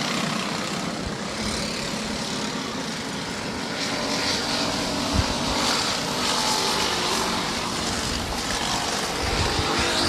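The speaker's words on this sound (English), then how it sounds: "gap back to 4 karts fighting for position" Racing karts at Adams Motorsports Park, heard as a steady, continuous engine drone with a faint rise and fall and no voices.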